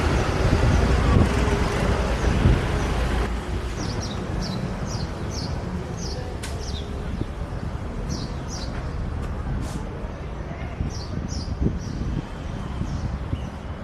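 Ride aboard a bus on the island of Gozo, Malta, with a steady engine and road rumble throughout, faint high chirps over the top and a few brief clunks.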